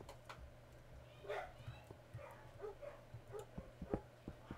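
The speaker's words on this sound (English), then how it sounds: "there are dogs barking" Dogs barking in a Minecraft hardcore game, several faint, short yips and barks in an irregular sequence over a quiet background hum, with no speech.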